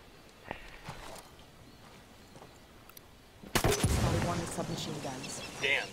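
A burst of gunfire and an explosive blast from a grenade launcher in the video game Ghost Recon Wildlands, starting suddenly after quiet ambience, loud and sustained with debris, no talking during it.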